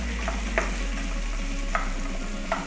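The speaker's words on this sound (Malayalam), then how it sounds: "ഈ സവോളയൊന്ന് നന്നായിട്ട് വഴറ്റിയെടുക്കണം" Onions sautéing in hot oil for chicken kurma, a continuous close sizzle with soft, regular stirring scrapes from a spatula every second or so, no voices.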